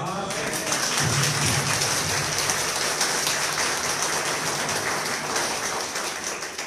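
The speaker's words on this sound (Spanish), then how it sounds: "Vamos a darles un fuerte aplauso" Congregation applause during a Sunday school church service, a loud sustained wash of many hands clapping evenly throughout, fading slightly toward the end.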